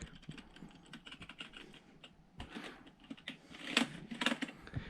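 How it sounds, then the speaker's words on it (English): Keys tapped over and over on a computer keyboard at power-on of a TinyMiniMicro homelab mini PC, quick clicky presses in irregular bursts, close and fairly quiet, growing denser and louder toward the end. "Spam F2 and F12 because I always forget the keys."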